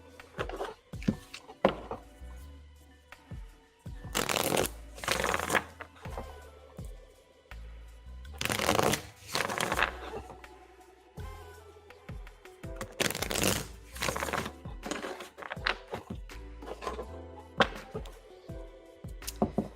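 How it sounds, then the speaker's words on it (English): Tarot cards are shuffled repeatedly in close, crisp riffling bursts with brief pauses between them, and no voice is heard. "All right, so we are shuffling."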